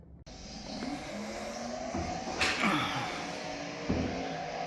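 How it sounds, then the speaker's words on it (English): Motor racing plays on a TV in a workshop, with race-car engines revving and passing at moderate level, a steady broadcast drone with a few sharper swells. "when you're working on race cars, you got to watch racing"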